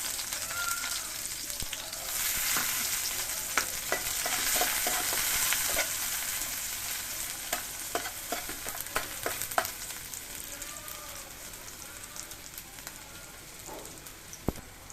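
Chopped onion and green chillies fry in hot mustard oil with a steady, dense sizzle, punctuated by sharp crackles and spatters and occasional stirring clicks throughout.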